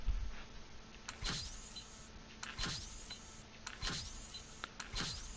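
In the Anyland virtual world, a laser gun fires a repeating energy-shot effect: four synthetic zaps with sweeping pitch, roughly one every second and a bit, layered over a low electronic whir, with no talking.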